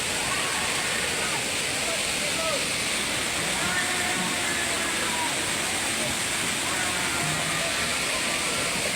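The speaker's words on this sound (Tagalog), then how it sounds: "Dito po yan sa falls." A waterfall at a swimming spot in Perez, Laguna, roaring as a constant broadband rush of falling water, loud and steady throughout with no distinct voices standing out.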